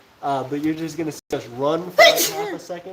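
A single sneeze from a woman outdoors during a storm bursts out midway, brief and sharp, amid continuous nearby talking.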